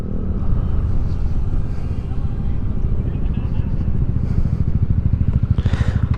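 Motorcycles and four-wheel vehicles pass in Gabaldon, Nueva Ecija, producing a loud, continuous low engine rumble with a throbbing exhaust pulse that grows stronger toward the end, with voices mixed in.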